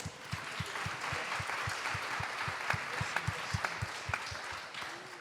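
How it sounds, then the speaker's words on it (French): An audience at a round-table discussion applauds, with steady, moderately distant clapping and a few sharper individual claps standing out. "On peut applaudir."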